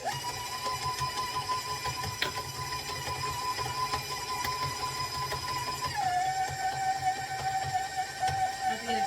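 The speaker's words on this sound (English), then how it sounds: "I'll mix that all together and add in the eggs slowly." An electric mixer whirs steadily while blending sugar cookie dough as eggs are added, a sustained motor hum that drops slightly in pitch partway through as the load changes.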